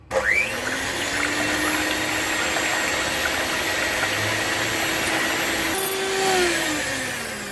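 An electric beater whirs steadily through egg yolks mixed with vanilla essence for a pressure-cooker chocolate cake. The motor drone holds an even pitch, then shifts and rises briefly near the end. It is close and loud, with no talking.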